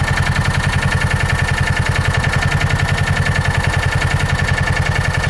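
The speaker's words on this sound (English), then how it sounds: "Looks like we're idling just a little bit high here again." A John Deere Gator 4x2 utility vehicle engine idles slightly high, a steady close-up rhythmic chugging with even pulses running throughout, no voices over it.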